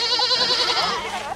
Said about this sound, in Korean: 이번 목표물은 아기 염소인가 봅니다.